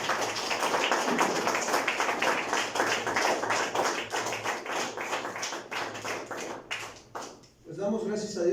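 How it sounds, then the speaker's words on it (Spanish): A church congregation at a Thursday evening Spanish-language service claps strongly for the Lord, a steady dense patter of many hands that fades near the end before voices take over. "Dale un fuerte aplauso al Señor."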